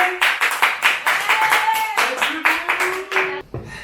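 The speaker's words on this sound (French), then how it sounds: "Et ben on applaudit très fort Charlie qui va tenter." An audience on a French quiz show claps in quick, uneven bursts for a contestant named Charlie. Brief voices and tonal sounds blend through the clapping before it cuts off.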